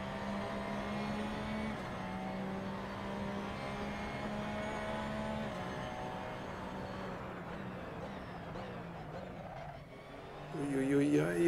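Race car engine in Assetto Corsa on PS4 at Imola, holding a steady sustained drone at full throttle, then rising in pitch and getting louder near the end as it accelerates, with someone talking over it.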